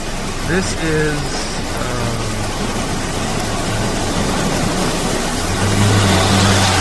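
A car's engine drones steadily as it drives along a muddy, nearly impassable road in rainy weather in Jamaica, a loud continuous rumble with a voice talking over it at the start.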